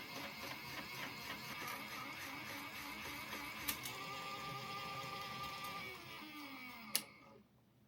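Yarn winder machine winding a yarn cake, a steady close mechanical whir and rattle running throughout with a couple of sharp clicks, stopping abruptly near the end.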